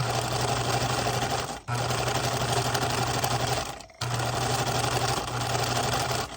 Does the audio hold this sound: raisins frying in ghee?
no